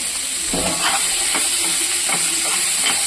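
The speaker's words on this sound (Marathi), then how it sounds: "दोन मिनटं आपण हलवत राहायचं आहे छान अशी फ्राय होईल आपली सिमला मिर्च" Bell peppers (capsicum) stir-fry in oil with a little salt, giving a steady close hiss and sizzle broken by regular scraping strokes of stirring.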